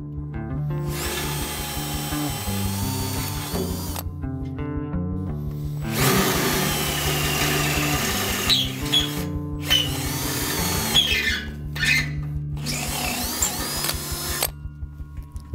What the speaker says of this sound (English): Save yourself a lot of hassle if you're trying to drill it out all at once.